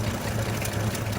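A truck engine idling low with a steady, even drone and a deep constant hum, close and unchanging.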